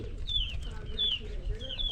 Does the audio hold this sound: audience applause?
no